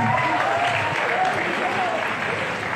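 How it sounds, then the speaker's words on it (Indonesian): Audience applause at a school's Islamic and creative competition: a dense, steady wash of many hands clapping at once, holding an even level throughout, with some voices mixed into the crowd. "tepuk tangan"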